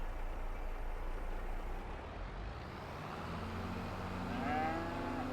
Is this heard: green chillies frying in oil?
no